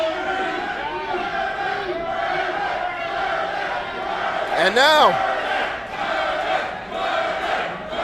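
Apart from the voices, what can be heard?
wrestling crowd chanting at London Music Hall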